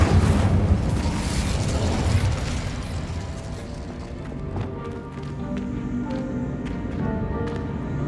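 Incendio, a fire spell in Hogwarts Legacy, erupts as a loud rumbling blast that fades into crackling and scattered clatter over several seconds.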